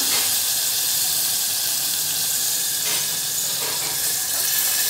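Water pouring into a cooking pot holding fried ingredients and rice for baby chicken soup, a loud continuous splashing rush close by with a faint hiss, running unbroken throughout.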